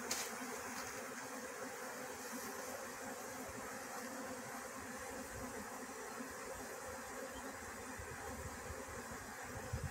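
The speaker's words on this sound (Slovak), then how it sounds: "A takto vzniká včelia rodina. Nová." A swarm of honeybees enters a hive, forming a dense, steady buzzing drone that stays even and loud throughout with no pauses.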